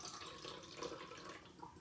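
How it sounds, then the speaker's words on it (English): Water poured from above through a funnel into a bottle makes a faint, steady trickling and splashing that runs without a break for the whole stretch, with no voices. "I'm gonna fill up the bottle"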